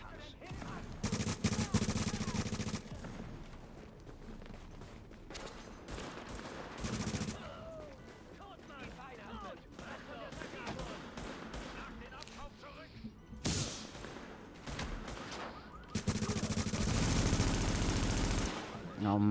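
Gunfire in The Division video game comes in loud automatic bursts and volleys with long sustained strings of shots. Quieter gaps between the bursts carry players talking.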